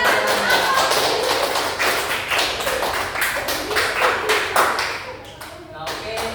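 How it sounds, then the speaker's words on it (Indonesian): Classroom applause for a student during a microteaching lesson, a small group clapping unevenly with sharp taps and thumps that thin out toward the end, with a voice speaking over it. "Nah, beri tepuk tangan."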